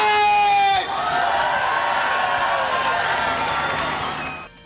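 A festival crowd at a concert in Concarneau roars and cheers loudly, with a sustained wash of voices and whoops swelling after a brief musical tone, continuous and close.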